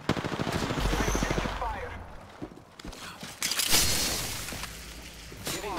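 Rapid automatic gunfire bursts in the battle royale shooter Apex Legends, loud and close, with a rattling volley early on and scattered shots and impacts after, mixed with busy game effects and chatter.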